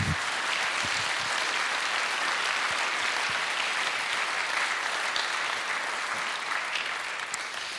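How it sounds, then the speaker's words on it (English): A crowd at a university closing ceremony in Riga, Latvia applauds in a long, even roar of clapping that holds steady throughout at moderate loudness, with no voices heard. "So I think we should give a great clap to the university."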